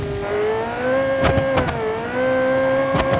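A 5.2-liter V8 car engine in BeamNG hums at a steady, slightly wavering pitch, sustained and close, with a few sharp clicks or ticks cutting through it.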